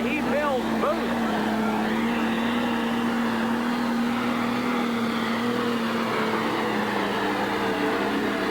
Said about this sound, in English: The International 1486 Ford turbocharged machine.